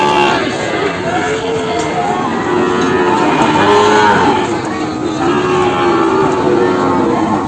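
PO cattle low repeatedly at a busy cattle market in Kebumen, several long, loud moos overlapping one another, with crowd noise and people talking in the background.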